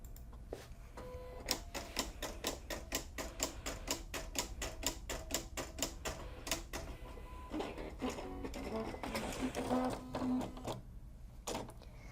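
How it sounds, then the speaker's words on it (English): A Silhouette CAMEO cutting machine runs a test cut on Siser Brick heat-transfer material, giving a rapid series of sharp, evenly spaced ticks and clacks, then softer whirring carriage movements near the end, close and fairly quiet with no talking. "now let's do our test cut again."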